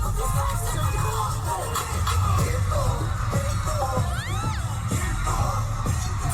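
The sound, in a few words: concert crowd cheering wildly at a live performance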